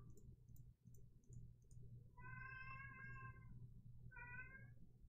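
Cat meowing indoors, a couple of clear, close meows separated by a short pause, rising over a steady low hum and faint background noise.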